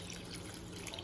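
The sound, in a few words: pouring water into a cooking pot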